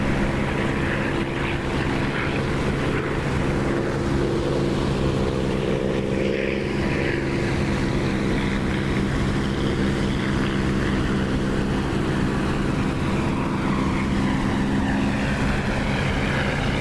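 Steady, loud propeller aircraft engine held at about 2,700 RPM in the DCS flight simulator, a continuous droning hum with strong low harmonics running unbroken and close throughout, with no talking.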